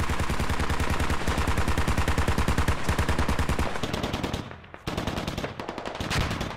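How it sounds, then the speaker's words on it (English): Rapid bursts of automatic cannon fire from a BTR armored vehicle shooting HEDP rounds in the military game Squad, loud and sustained, with dense repeated shots that briefly drop away before resuming. "HEDP rounds from the BTR just peppering the entire area"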